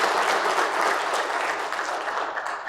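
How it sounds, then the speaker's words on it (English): An audience at a business conference breaks into a full round of applause, thick and sustained, tapering slightly toward the end with no speech over it. "let's give a round of applause just to start off for the chamber"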